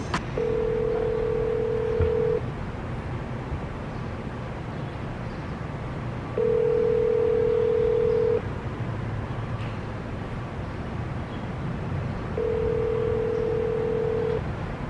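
A phone call placed during a live cold call plays a steady ringback tone, three long evenly spaced rings about two seconds each over a low background hiss.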